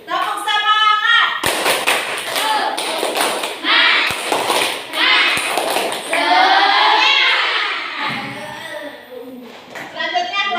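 Classroom of children doing a rhythmic spirit-clap routine during a teacher training lesson, sharp claps and taps in bursts amid loud children's voices and chanting, with speech over much of the clip.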